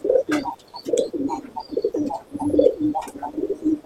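Pigeons coo close by in repeated throaty, bubbling phrases that overlap in an uneven rhythm, with a few sharp clicks and flutters between them.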